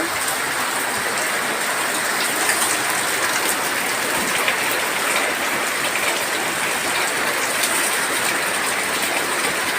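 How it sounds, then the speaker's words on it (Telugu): Steady, heavy rain pours down in a continuous dense hiss, with no break for the whole stretch. "ఇప్పుడు ఎందుకు వాన"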